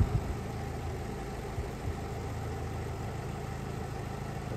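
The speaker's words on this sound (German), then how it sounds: "Dann fährt sich die Hydraulik hoch." A 1960 Citroën DS idles steadily while its hydraulic suspension rises, giving a constant low engine hum with a faint whirring underneath and no clear changes.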